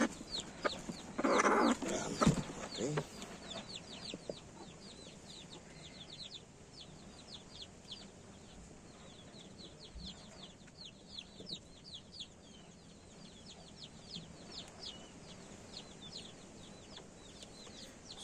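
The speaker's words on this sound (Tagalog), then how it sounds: "ang tapang ng inahin natin" A hen clucks repeatedly and agitatedly from close by, with a loud burst of fowl squawking early on, then steady clucking persists amid background bird chirps.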